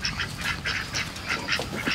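Ducks beside their netted night coop quack steadily in quick, overlapping bursts, close and loud, with no voices.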